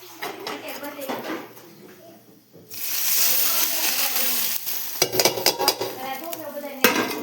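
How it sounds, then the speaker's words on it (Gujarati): Hot oil tempering is poured over steamed dhokla, setting off a sudden loud sizzle that carries on steadily, among clattering utensils and a voice talking nearby. "ચાલો મસ્ત આપણે ઢોકળા વઘારીને કમ્પ્લીટ થઈ ગયા છે"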